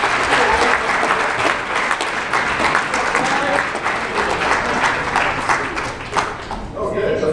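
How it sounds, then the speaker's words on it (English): Audience at a grad night hypnosis show bursts into sustained, dense applause and clapping, steady and loud throughout, easing slightly near the end. "Give them a round of applause, everybody."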